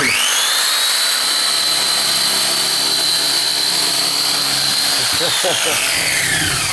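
A vintage Bosch rectangular orbital sander runs close by with a loud, steady high-pitched whine and rough buzzing, then winds down near the end with a falling tone.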